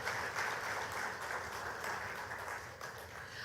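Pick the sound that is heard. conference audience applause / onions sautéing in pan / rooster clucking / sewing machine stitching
conference audience applause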